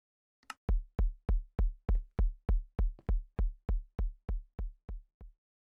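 Warden heartbeat sound from Minecraft, played loud through an audio player: fourteen deep, booming thumps at a steady, slightly slowing pace, each pulse sharp and heavy, with nothing else heard.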